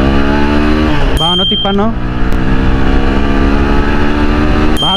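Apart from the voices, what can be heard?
car accelerating through gears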